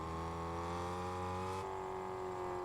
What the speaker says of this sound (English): I hear the car.